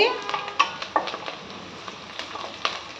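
Onions fry in a pan for a chicken curry, soft sizzling broken by sharp intermittent scrapes and clinks of a spoon stirring against the pan.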